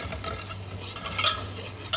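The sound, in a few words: roasting furno flour in a little oil, stirring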